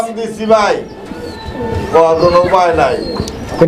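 A Danish yellow pigeon coos in soft, repeated calls, close by and mixed in with people talking nearby.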